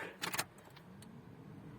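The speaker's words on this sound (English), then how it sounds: "So now we start the car up" A car engine is started after a coolant refill. A brief jingle of keys comes first, then the engine catches and settles into a quiet, low idle hum.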